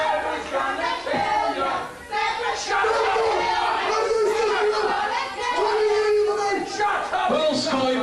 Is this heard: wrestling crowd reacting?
yes